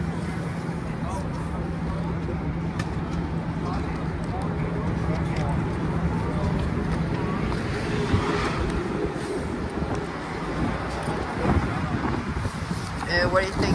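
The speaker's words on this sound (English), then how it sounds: "It's kind of windy." Wind buffets the microphone continuously on an outdoor city rooftop near a tower in New York, a steady rumbling roar with gusty swells, while people chat underneath.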